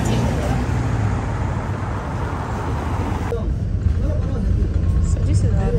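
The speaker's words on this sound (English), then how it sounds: "So here is the bus I've been waiting." A Paris city bus, route 42, pulls in amid loud roadway traffic, its engine rumble close and steady, with a sudden shift partway through as it arrives nearby.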